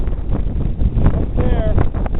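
Strong, sustained wind of about 40 miles per hour on a canyon hike, roaring and buffeting the microphone in loud rumbling gusts, with a faint voice underneath.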